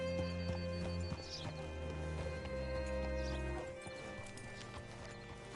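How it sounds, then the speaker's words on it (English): Horse hooves clip-clop in Red Dead Redemption 2 over a low in-game hum, a close, rhythmic run of hoofbeats with a brief whinny, continuing softer after the background drone drops away. "Hitch your horse up here"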